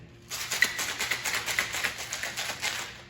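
Rapid rhythmic rattling of ice inside a cocktail shaker, close and loud, running continuously for about three seconds.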